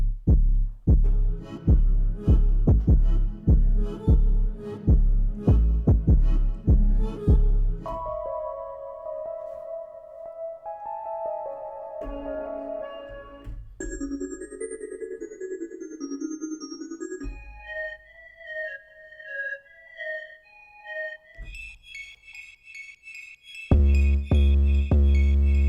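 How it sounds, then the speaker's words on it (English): Latin trap beat from a Native Instruments LEAP expansion kit, opening with punchy rhythmic drum hits and deep bass, then breaking into sparse synth tones and melodic stabs before the heavy drums return near the end. "Let's see what a bit of Latin trap sounds like."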